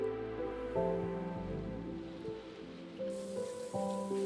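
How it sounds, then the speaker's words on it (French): Soft steady rain patter in the farming video game Stardew Valley, a faint wash running beneath gentle melodic game music throughout. "Ok, il pleut, c'est génial."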